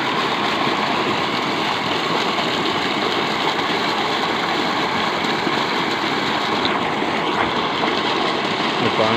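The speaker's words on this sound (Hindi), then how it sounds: "ये पानी है मोटर का" Water pouring from the outlet of a belt-driven solar-powered pump motor beside a millet field, a steady loud rush mixed with a continuous engine-like drone throughout.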